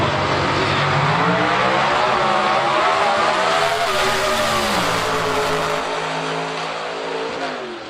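Nitro drag racing cars at the IHRA Palm Beach Nitro Jam launch down the track in a loud, continuous engine roar that climbs and shifts in pitch, then eases off slightly near the end.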